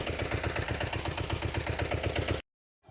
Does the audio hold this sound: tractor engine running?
yes